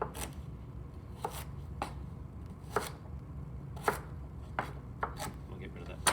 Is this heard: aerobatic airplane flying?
no